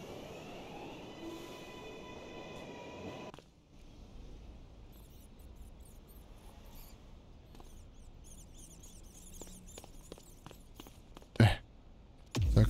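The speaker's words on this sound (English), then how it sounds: "ja mogu da koristim metro" Subway train riding in the video game GTA 2, a steady low rolling rumble with a high whine early on, then rattling clicks and a few sharp clanks near the end.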